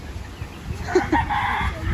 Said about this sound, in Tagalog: Daming manok dito na inalagaan guys.